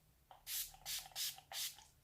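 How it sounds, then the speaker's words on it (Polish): Makeup setting spray misted onto a face from a pump bottle: four quick hissing spritzes in a rapid, uneven rhythm, close and fairly soft, with no talking. "na buźkę jeszcze spray"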